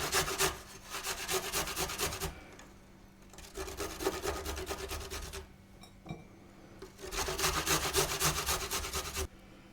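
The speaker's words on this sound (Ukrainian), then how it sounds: "Зараз ще заодно потру часничок на такій самій терочці" Garlic is rubbed on a fine grater in three bursts of rapid, rhythmic rasping strokes separated by short pauses, close and fairly quiet.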